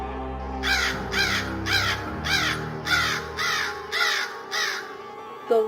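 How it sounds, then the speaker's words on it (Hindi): A crow caws repeatedly, about eight loud harsh calls in a steady rhythm, fairly close, with a faint low hum underneath. "पेड़ में बैठे हुए एक कौवे ने लकड़बग्घे को देख लिया और वो जोर जोर से चिल्लाने लगा"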